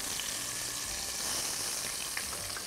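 Garlic sizzles steadily in a pot while being stirred, a dense crackling hiss with faint scraping, close and continuous, no voices.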